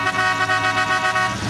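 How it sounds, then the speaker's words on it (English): A combine's horn honks steadily and loudly throughout at a fair combine derby, a sustained blaring tone with engine noise rumbling beneath it. "somebody take the horn away from that guy"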